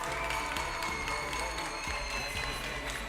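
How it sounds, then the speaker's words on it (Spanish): Applause from a crowd at a provincial folk dance gathering in Río Gallegos, steady clapping mixed with crowd noise and some cheering under music or a voice, holding at an even level for a few seconds. "Fuerte el aplauso para ellos nuevamente, por favor."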